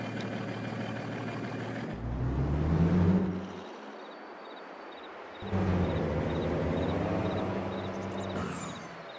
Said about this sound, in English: I think the engine sounds need some work